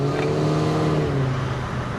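A custom project pickup truck (bakkie) engine drones steadily under revs, a loud, close, continuous rumble with a sustained low tone throughout.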